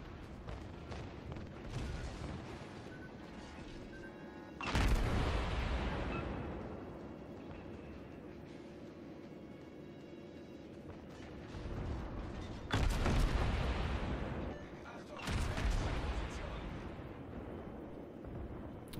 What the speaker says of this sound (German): Die New Mexico, die schießt bereitwillig auf mich.